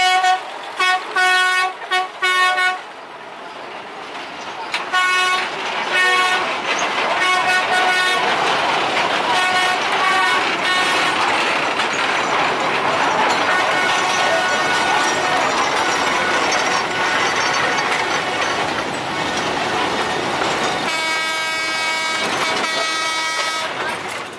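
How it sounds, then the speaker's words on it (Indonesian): Sugarcane train locomotive of the Semboro sugar mill crossing near a market, with loud clanking, rattling wagons and repeated horn toots at the start, then a sustained rumble and screech as it rolls steadily past close by. "lokomotif mulai melewati perlintasan di dekat pasar"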